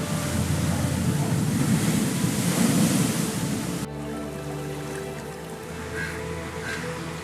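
Sea waves wash steadily onto an eroding shore at Chellanam, Ernakulam, where coastal flooding has stripped the stones away, a dense, loud broadband rush that drops to a quieter, more distant roar halfway through.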